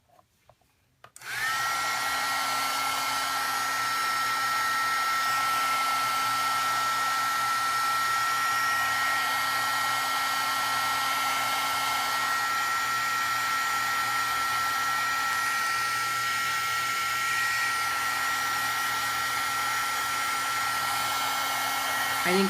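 A hair dryer blowing on gesso-coated paper: a steady, loud whirring hum with a constant tonal whine, running unbroken for about twenty seconds after switching on, no talking.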